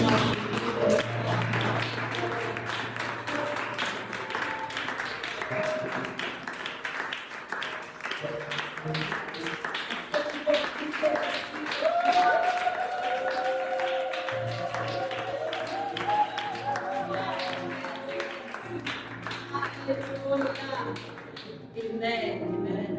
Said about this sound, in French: donner une offrande d'acclamation à Jésus